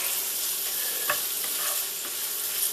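Scrambled eggs with lobster sizzle steadily in a hot pan, with a few soft scrapes of stirring breaking through the constant crackle.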